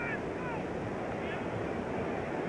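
Strong wind buffets the microphone at an open-air NFL football stadium during a 1988 Denver Broncos versus San Francisco 49ers game, a continuous loud, rumbling roar with broadband noise and no clear speech.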